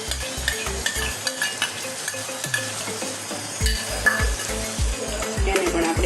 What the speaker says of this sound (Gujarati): હવે જુઓ આ મસાલો ચડી ગયો છે, હવે આપણે આમાં ટમેટાની પેસ્ટ ઉમેરી દઈશું